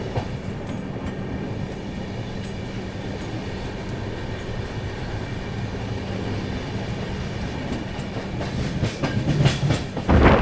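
A fast express train runs at high speed on an Indian rail line near Ajmer, a steady loud rumble of wheels and carriage noise heard from on board, with a brief rattling swell near the end as it passes a goods train.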